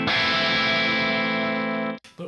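An overdriven electric guitar played through an HX Stomp rings out as one sustained, distorted chord with a harmonically rich, slightly trumpet-like edge, held loud and alone for about two seconds before cutting off, then a brief pick noise.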